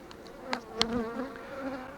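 Honeybees at a hive hum in a dense, steady drone, with a few individual insects buzzing close by over the quieter background hum.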